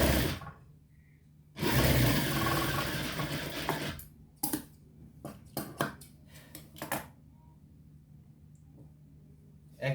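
A sewing machine stitches a dress seam, a loud continuous whirring run in the first seconds followed by several short bursts of stitching separated by pauses.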